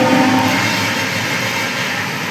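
A train passing, heard as a loud, dense, steady rumble and roar that fills the whole clip with no clear breaks and no talk.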